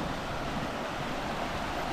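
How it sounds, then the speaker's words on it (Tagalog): A strong river current rushes steadily in a dense, continuous roar of flowing water, loud and close, with no voices over it. "Malakas sa agos."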